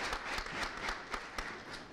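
Applause from an audience at a televised birthday broadcast, a steady wash of clapping lasting the full two seconds at moderate loudness.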